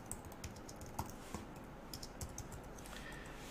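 Light, rapid keystrokes on a computer keyboard tap along in an irregular steady patter, quiet and close, with no voices.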